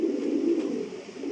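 Racing pigeons at a breeding farm give a low, throaty coo, soft and close, in one brief continuous murmur.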